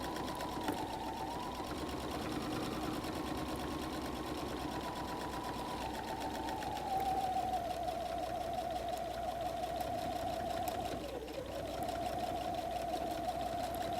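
A sewing machine runs steadily through a messenger bag's lining seam, a continuous close whir that shifts pitch partway through as the speed changes, finishing with a brief backstitch.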